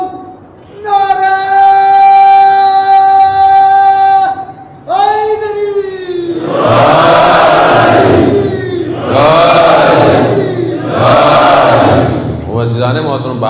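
At a religious majlis gathering, one voice leads a drawn-out call, then a large crowd thunders back slogan responses in three loud, rhythmic bursts, each rising and fading close by.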